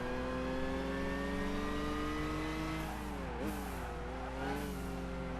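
A race car's engine in Gran Turismo 5 revs loud and steady with strong harmonic tones, dipping briefly and climbing again as the car accelerates, with no talking over it.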